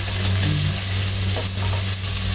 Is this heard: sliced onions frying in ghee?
yes